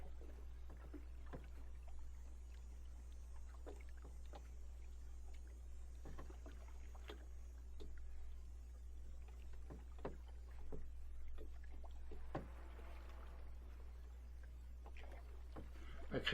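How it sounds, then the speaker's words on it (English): A canoe paddled up the Trent River on the Trent-Severn Waterway, with soft rhythmic paddle strokes and water splashes and drips recurring every second or so over a quiet, steady low rumble. "I paddled up the Trent to reach Lock 14."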